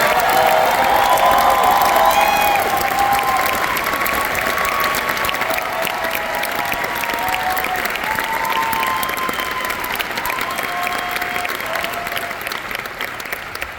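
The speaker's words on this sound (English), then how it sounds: "Let's give a round of applause for the senior sopranos" Sustained audience applause for a group of senior sopranos at a spring university choir concert, loud and dense throughout, with some cheering voices mixed in and tapering slightly toward the end.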